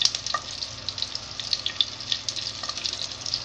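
Cumin, bay leaf and broken chili sizzle steadily in a tablespoon of hot oil for a paneer mawa curry, a close, continuous crackling hiss.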